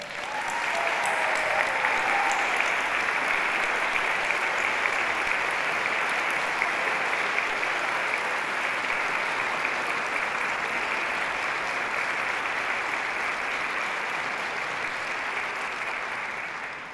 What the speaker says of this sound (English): let's give them a tumultuous round of applause